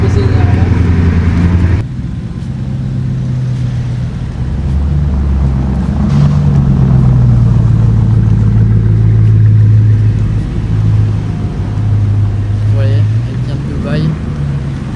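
Bugatti Chiron with its W16 engine driving through Paris streets, a deep, loud, sustained engine rumble that swells and falls over the traffic, with background street noise throughout.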